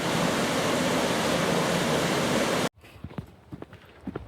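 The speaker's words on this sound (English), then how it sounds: "the timeless flow of water has created a sculpture as beautiful as anything that a human could" Steady rushing of flowing water in Glen Nevis, Scotland, loud and continuous for nearly three seconds, then cutting to quieter surroundings with scattered soft knocks and rustles.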